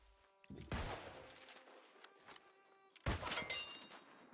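Gunfire in the New World video game: two sharp, loud shot bursts about two and a half seconds apart, each with a ringing tail, over a quiet background with no talking.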